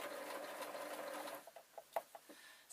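A sewing machine stitching leatherette from a pair of trainers into a boot, running in a fast, steady whir before stopping, followed by a few short, quiet bursts of stitching up close.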